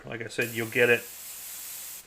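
An airbrush sprays paint through lace onto a design: a steady, close hiss runs for about a second after a short burst of speech.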